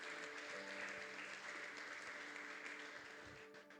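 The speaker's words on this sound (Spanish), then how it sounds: "Y la iglesia le da otro fuerte aplauso al Señor en esta mañana." A church congregation applauds during a Sunday morning service, a dense, even clapping that fills the room and slowly tapers off, with a faint sustained musical tone underneath.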